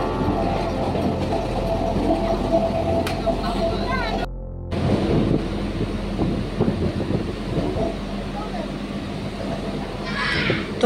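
Vande Bharat Express from Howrah to Puri, heard from inside a carriage, with a steady low rumble and rattling clatter of the wheels that cuts out briefly near the middle before resuming, with people talking at times.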